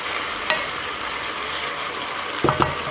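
Tomatoes are stirred into ratatouille vegetables in a hot pan, giving a steady wet sizzle with a couple of soft scraping stirs near the end.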